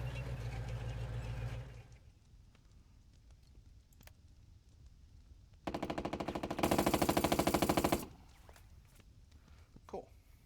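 Soldiers firing on a house in the tactical war game Burden of Command, a steady rapid machine-gun burst rising loud in the middle after quieter stretches with someone talking.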